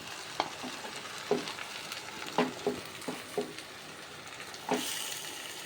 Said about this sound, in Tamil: இதை ஒரு வாட்டி லைட்டாக கிளறி விட்டுருங்க